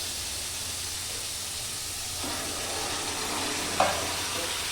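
Lentils go into a hot pan with fried cauliflower, giving a continuous broad sizzle that swells slightly after the pour, with a brief utensil clink near the end.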